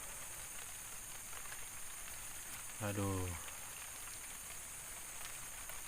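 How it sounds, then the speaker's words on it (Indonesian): Rain falls outdoors on an oil palm plantation, a soft, even, continuous hiss throughout, broken only by a brief spoken exclamation near the middle. "Sudah mau hujan, udah hujan nih."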